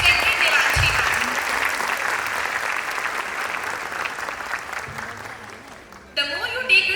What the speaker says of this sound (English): A huge round of applause and with a thankful heart, we all welcome you